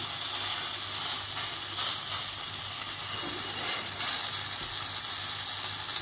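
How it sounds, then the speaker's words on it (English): Loud, steady sizzling of steak searing in a hot pan, a continuous bright hiss with no talking. "Do a sizzle."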